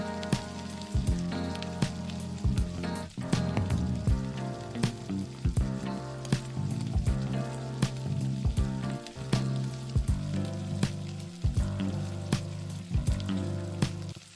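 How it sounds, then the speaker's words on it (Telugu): Chopped onions, about a cup, fry in oil in a pan for kothu chicken fry, giving a steady loud sizzle with crackling pops across the whole stretch and no talking. "ఆ ఆనియన్స్ యాడ్ చేసేసుకొని ఫ్రై చేసుకోవాలన్నమాట."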